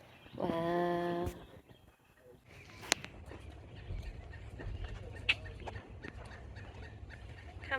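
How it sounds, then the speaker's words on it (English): Bird calling outdoors, a short loud harmonic squawk near the start, followed by quieter street ambience with scattered sharp sounds. "What kind of bird is that?"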